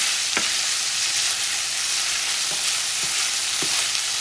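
Longaniza sausage meat with tomatoes frying in a pan: a steady broad sizzle fills the background, broken by a few sharp spatula scrapes, close and moderately loud.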